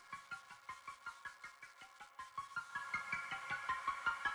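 A Euclidean melody synth patch from the Reaktor user library plays a steady, evenly pulsed sequence of short plucked notes. Each note has a sharp attack and a bright tonal ring, and the pattern grows slightly denser and louder toward the end. No voices are heard.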